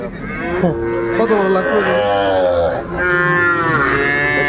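A young Sahiwal bull at a cattle market moos loudly and close in two long, sustained calls. Someone speaks briefly over the first call.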